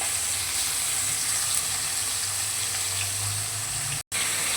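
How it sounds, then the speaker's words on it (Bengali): Small fish sizzle in hot oil in a wok, giving a dense, even frying hiss that stays close and steady, with a brief dropout near the end. "মাছটা একটু ভাজাই করে নিচ্ছি চলো মাছগুলো কড়াইতে দিয়ে দিচ্ছি আগে একটু ভেজে মাছগুলোকে তুলে নেব"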